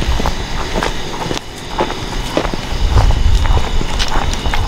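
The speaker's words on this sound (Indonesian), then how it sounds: "Ini lagi jalan kaki juga soalnya." Footsteps crunch steadily through a forest, a regular close rhythm of steps over leaves and ground with a continuous outdoor background.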